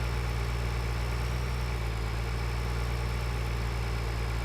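A tractor engine in Farming Simulator 2013 idles and chugs steadily, a droning low-pitched hum with a constant tone and no change in pace throughout, heard alone without talk.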